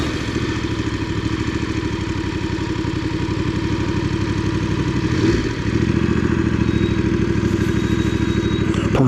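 Motorcycle engine idling close by: a steady, even mechanical chug with a light clattering texture, holding at the same loudness throughout with one small bump partway.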